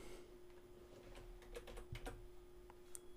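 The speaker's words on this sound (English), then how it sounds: "we'll type in blog" Keystrokes on a computer keyboard come as a short burst of crisp clicks, close and fairly quiet, with a steady faint electrical hum underneath.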